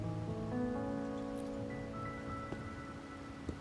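Steady rain falls in the video game Wuthering Waves, a constant soft hiss over a sustained musical drone, with a couple of faint drips or taps near the end.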